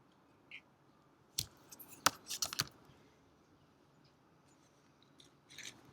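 Scissors snipping a short piece of string for salt dough ornaments, a few sharp, close metallic clicks in a quick cluster, then a pause and a couple more faint snips in a quiet room.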